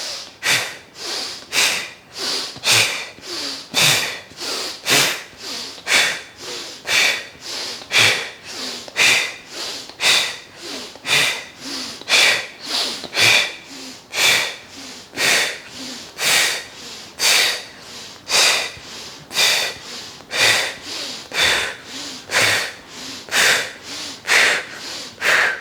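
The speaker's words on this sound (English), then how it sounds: "So I'm breathing in through the nose, exhaling out through the mouth." Slow, steady yoga breathing, in through the nose and out through the mouth, repeats in a close, even rhythm of breaths throughout, each exhale a breathy rush with no talking.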